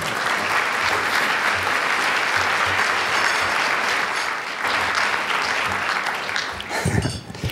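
A conference audience applauds a speaker being welcomed, with dense, sustained clapping filling the hall, then tapering off as a voice briefly begins near the end.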